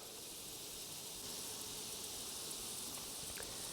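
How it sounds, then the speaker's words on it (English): Honeybees drone steadily around an open, queenless hive, making a continuous, even buzz close to the listener, with a few brief flickers of individual bees flying past and no voices. "These bees are very calm"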